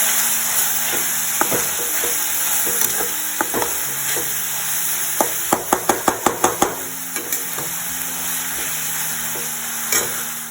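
Mushrooms frying in hot oil in a pan on a gas stove, a steady sizzle throughout with a quick run of sharp knocks and clatters from stirring in the middle, close and fairly loud, with no talking.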